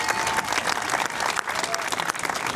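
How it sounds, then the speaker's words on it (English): Outdoor crowd applause at a parade following a sung performance, dense sustained clapping with scattered cheers filling the whole stretch at steady volume. "let's give her another round of applause on that beautiful singing"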